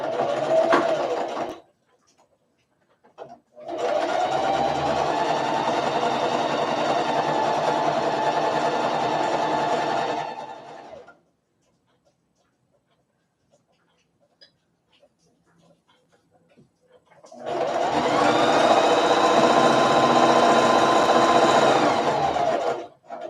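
A sewing machine runs a seam on a fabric bag in two long motor-driven bursts of fast, humming stitching, separated by a quiet pause of several seconds.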